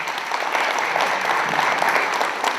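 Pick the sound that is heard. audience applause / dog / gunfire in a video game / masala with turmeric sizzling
audience applause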